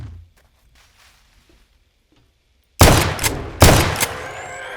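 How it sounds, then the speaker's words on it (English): Rapid bursts of FN57 pistol fire in the game 7 Days to Die, two loud clusters of quick shots after near silence, each trailing off in a short echo. "Though I will say this about the FN57, damn, that gun has a nice rate of fire."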